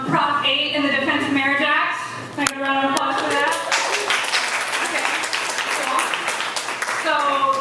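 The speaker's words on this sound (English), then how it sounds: "Can I get a round of applause for that?" Audience applause at a spoken-word poetry event breaks out and holds as a dense, steady wash of clapping, with a speaking voice heard over it at the start.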